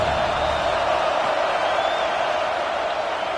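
A college football stadium crowd at Georgia against FSU roars steadily on third down, a dense, loud, continuous wall of noise with no clear breaks.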